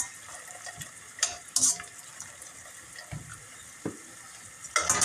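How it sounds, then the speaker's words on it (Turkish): Boiled wild greens tipped into a strainer in a home kitchen, giving short wet splashes and trickles of water with a few clattering knocks, moderately close with quiet gaps between bursts. "Haşlanmış otları alıp sızdıracağız şimdi."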